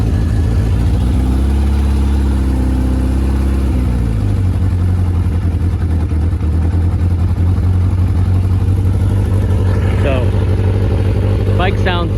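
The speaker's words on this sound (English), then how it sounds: "The bike sounds quite throaty, partly because the previous owner had drilled holes in the end caps" Throaty, steady engine drone from a Kawasaki KZ1000R motorcycle with holes drilled in its exhaust end caps, idling with a brief rev dip near the start, running loud and close throughout with a few faint background chirps.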